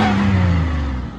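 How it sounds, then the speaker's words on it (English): A supercharged Buick Regal with a roots blower revs loudly up close, with a deep engine roar and whining blower tone that drop slightly in pitch as the revs ease off. "You can hear that roots blower from a mile away, boy."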